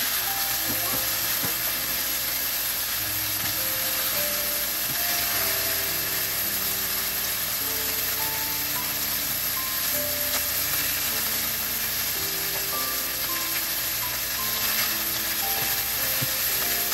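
Chicken stir fry browning in a hot pan, giving a steady, close sizzle with occasional stirring scrapes throughout and no talk.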